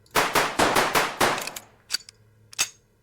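A gun on a Scream-themed video game map fires about six loud, evenly spaced shots in quick succession, followed by a couple of sharp metallic clicks and clacks like reloading.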